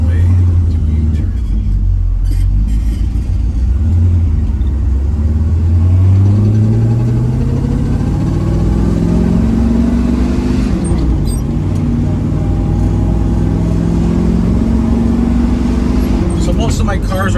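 A 1968 Chevrolet Camaro SS makes a U-turn with its engine rumbling loud and close, revs rising and falling in several swells as it turns and pulls away, while someone talks throughout.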